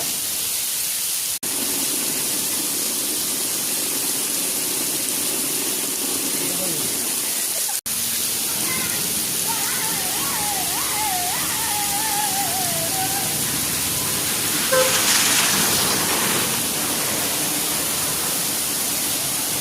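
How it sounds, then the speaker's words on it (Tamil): Heavy rain falling steadily with water rushing through a street in Nagapattinam, a constant broadband wash that stays loud and even throughout, with faint voices and brief tonal sounds in the middle. "ஃபுல்லா மழை பெய்யுது. தண்ணி எப்படி ஆறு மாதிரி ஓடிட்டே இருக்கு பாருங்க."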